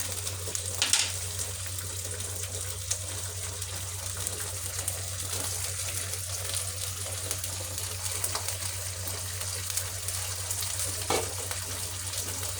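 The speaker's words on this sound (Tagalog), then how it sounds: "Lutuin lang muna natin yung sardinas ng nalagyan" Sardines frying in a pan give off a steady, continuous sizzle at moderate level, with a low hum running underneath and no voices.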